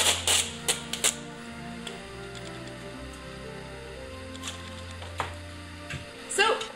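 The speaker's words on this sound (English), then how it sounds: "let's get our tape and start taping down our lines" Strips of painter's tape pulled and pressed down onto a canvas for a DIY snow-themed painting, giving sharp tearing and ripping bursts at the start and end with quieter handling between.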